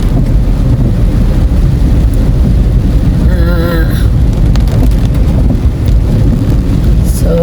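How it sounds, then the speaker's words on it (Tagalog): Heavy rain with thunder in Mindanao roars in a loud, constant wash of noise with gusts of wind, close and unbroken throughout. "Gasigig ulan."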